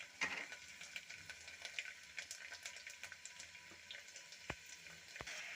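Chopped garlic tempering in hot oil in a pan, giving a faint, steady sizzle with a few sharp clicks and pops near the end.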